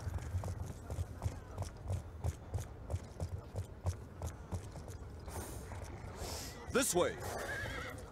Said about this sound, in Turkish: Yavaş git beygir.